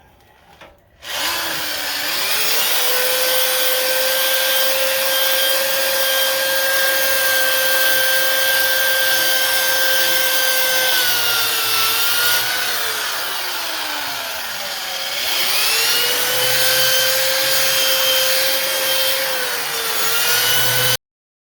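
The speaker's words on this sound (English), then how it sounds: "I wish I would have started using these wire wheels a lot sooner." A power drill spins a wire wheel to strip old finish off a wooden deck before painting: a loud, continuous close-up whine that drops in pitch under load and rises again when the wheel eases off, with no talking.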